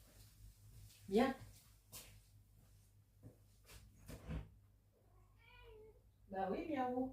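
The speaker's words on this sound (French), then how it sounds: "J'entends mon chat qui miaule." A house cat meows repeatedly behind a closed door, with someone talking in between; one clear meow early and a longer, louder cluster of meows near the end, close by.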